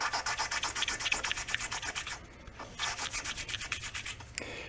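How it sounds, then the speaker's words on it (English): Continuous gritty rasping of an engine valve spun in a drill against sandpaper, pulsing rapidly, briefly easing then resuming, close and fairly quiet. "It goes from a growly sound, which is the aggregate cutting."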